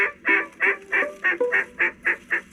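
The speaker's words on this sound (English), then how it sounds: "Look at all those ducks." Waterfowl call overhead on an early-morning outing: a close, loud run of about nine honking calls in an even, rhythmic series.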